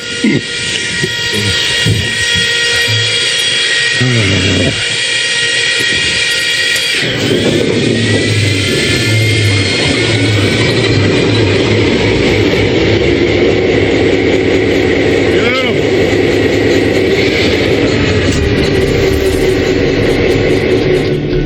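An old locomotive's diesel engine turning over and firing up in the cab, loud and close: a steady mechanical drone, then a deeper, heavier rumble as the engine catches and settles into a strong idle.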